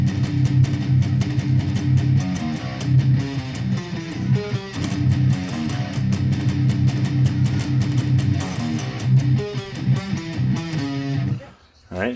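Heavy distorted metal guitar playing a tight palm-muted picking pattern, chugging low riffs in fast repeated bursts with dense drums or backing, loud and continuous before a brief drop near the end.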